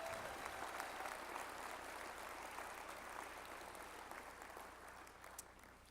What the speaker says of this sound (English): How about a nice round of applause for our male and female athletes of the year here?